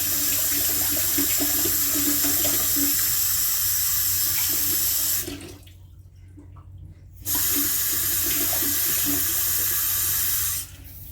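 Warm water runs from a kitchen tap into a cup in a steady loud hiss, stops for about two seconds, then flows again before shutting off.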